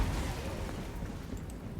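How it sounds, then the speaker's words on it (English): Dwarf artillery in Total War: Warhammer booms and rumbles continuously, a dense low roar of distant blasts and explosions blending into a steady wash of battle noise. "artillery should open up pretty much immediately here"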